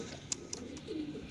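An Indian Kaldom pigeon coos faintly at a crowded pigeon sale, a soft low call with a couple of sharp clicks behind it.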